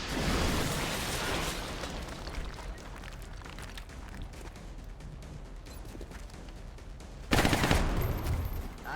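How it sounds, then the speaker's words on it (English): A rocket fires and explodes in XCOM: Enemy Unknown, set against a rumbling background of rattling gunfire, with a sharp loud blast bursting in near the end. "Firing rocket."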